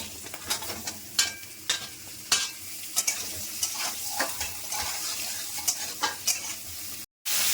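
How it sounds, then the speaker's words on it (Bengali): Ridge gourd pieces hit hot oil tempered with black cumin seeds and four green chillies, giving a steady close sizzle with repeated sharp stirring scrapes and clinks in the pan, no voices. "তেলের মধ্যে এবার দিয়ে দিচ্ছি কালো জিরে আর 4টে কাঁচা লঙ্কা ফোড়ন। এবার ঝিঙেগুলো দিয়ে দিচ্ছি।"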